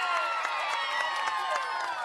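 A crowd claps and cheers at a homecoming reception for a reality show winner, a dense burst of applause with scattered shouts, loud and continuous.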